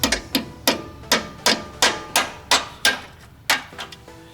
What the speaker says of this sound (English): So I'm just going to bump the thing up from the bottom with a hammer lightly.